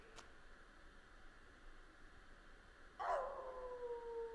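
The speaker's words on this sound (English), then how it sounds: "Who names their dog Eugene?" A dog howls in Secret World Legends, one long wavering cry that begins partway through and slides slowly downward, fairly faint against a quiet background hum.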